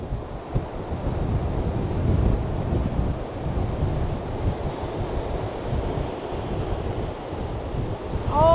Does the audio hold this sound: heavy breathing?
no